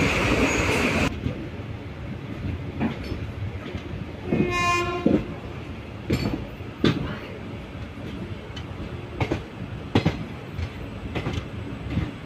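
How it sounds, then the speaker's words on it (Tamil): The Pamani Express pulls into Needamangalam station, a loud horn blast sounding briefly amid rumbling carriages, then rhythmic clanks and thuds of wheels over rail joints recurring as the train slows. "பாமணி எக்ஸ்பிரஸ்க்கு இருக்கக்கூடிய final intermediate halt Needamangalam reach பண்ணிட்டோம்"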